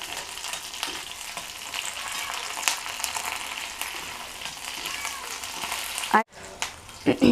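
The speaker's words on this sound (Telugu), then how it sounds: "ఇవి కొంచెం ఫ్రై కావాలండి" Steady sizzling of fenugreek leaves frying in a pan, fairly quiet and continuous, ending with a few clinks and stirring noises.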